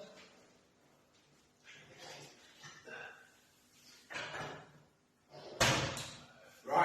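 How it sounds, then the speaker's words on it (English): A home kitchen oven door is shut after food goes in, giving one sharp, loud clunk late in the sequence, preceded by quieter handling noises and people talking nearby. "Right, let's put this in the oven."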